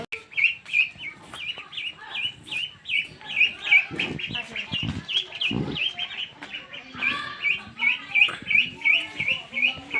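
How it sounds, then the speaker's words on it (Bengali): About five desi chickens in a homemade coop give repeated bright, high chirps in quick runs, fairly close, with some dull thumps and rustling in between and no talking. "এই যে মুরগিগুলো এখানে দেখতে পাচ্ছেন"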